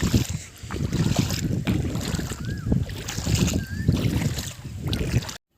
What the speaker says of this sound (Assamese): বতাহ মাৰি আছে যে বহুত ধুনীয়া লাগিছে